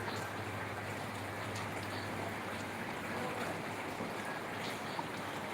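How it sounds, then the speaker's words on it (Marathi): Heavy, continuous rain pours down, a dense, even roar of falling water with a steady hiss that doesn't let up, heard alone without talking. "पाऊस बघा किती वाढलाय सकाळपासून कंटिन्यू पाऊस आहे थांबतच नाही"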